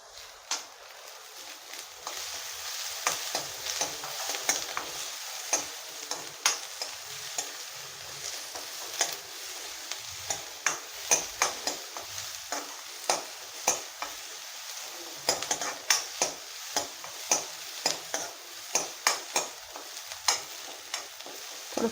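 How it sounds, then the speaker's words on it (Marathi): Onion and garlic frying in a little oil over a low flame, with a soft steady sizzle under frequent sharp scraping taps of a spoon stirring against the pan, close up and without talk. "कांदा जो आहे तो लो फ्लेमवरती आपण भाजून घेणार आहोत आणि ह्यामध्येच मी घालणार आहे लसणसुद्धा"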